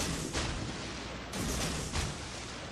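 Naval guns firing in World of Warships from a Yugumo destroyer, a few booming shots in quick sequence over a continuous loud rumble of game ambience.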